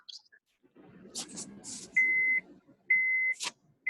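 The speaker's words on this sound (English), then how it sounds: "whatever that beeping noise is" Three steady electronic beeps, each held about half a second, sound at regular intervals amid faint background shuffling and a couple of short hisses.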